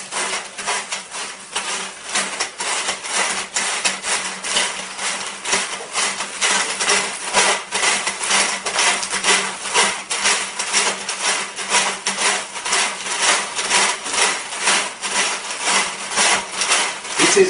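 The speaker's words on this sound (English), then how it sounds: "After that, you can just push in this fish tape" A metal electrician's fish tape scrapes and rattles as it is pushed into conduit, with a dense, steady run of rapid rubbing clicks close by.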